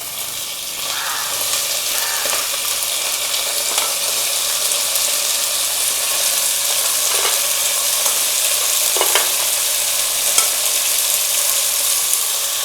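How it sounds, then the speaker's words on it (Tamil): Crab sizzles loudly in a pan with sautéed tomatoes for crab curry, a dense continuous frying hiss with occasional stirring scrapes, close and steady throughout. "இப்போ நம்ம எடுத்து வச்சுக்க நண்டை சேர்த்துடலாம்."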